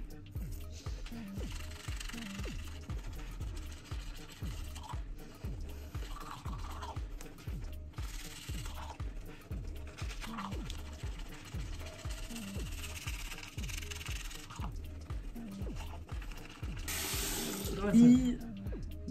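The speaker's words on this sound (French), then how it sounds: "je vais me laver les dents parce que je peux pas rester avec le produit comme ça sur les dents" Teeth being brushed at a bathroom sink with the tap running: a steady rhythmic scrubbing over continuous flowing water, close by, with a louder knock or splash near the end.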